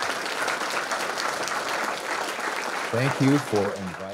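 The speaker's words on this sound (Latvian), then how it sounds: "ar aplausiem viņu" Audience applause welcoming Dr. Jeffrey Barrows as a guest speaker at a talk, a steady broadband patter of many hands that runs throughout, with voices breaking in over it near the end.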